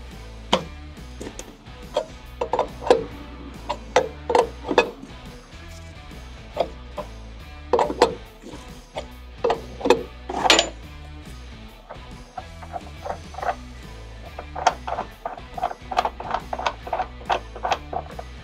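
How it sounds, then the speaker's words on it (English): Loosening the bottom mesh tensioner from the side of the box on a Keestrack R3H screen gives a string of sharp metallic clicks and ratcheting taps in irregular bursts, close up and moderately loud, with no talking. "To undo our bottom mesh, we're going to loosen off our bottom tensioner"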